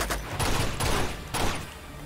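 Enemy gunfire in the Uncharted 2 video game, bursts of rapid shots crackling in several close, loud volleys with short gaps between them.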